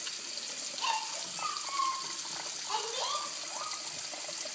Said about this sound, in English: But I am going to wash my hands.